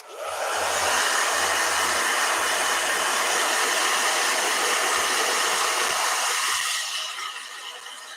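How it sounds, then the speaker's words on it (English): A hair dryer runs continuously at close range, a loud, steady rushing blow with a low motor hum underneath, holding for about seven seconds before tapering off near the end. "One last blow dryer."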